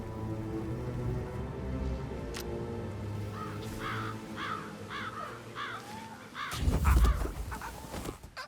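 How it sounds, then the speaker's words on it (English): Crows caw in Hitman 3, several short calls in a row over a steady rain-like ambient bed, followed by a louder rumbling burst of game noise. "I'll never get rid of those stupid birds."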